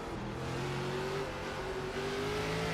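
A race car engine in the iRacing video game revs steadily and loudly, its tone climbing smoothly under a continuous roar with no talk.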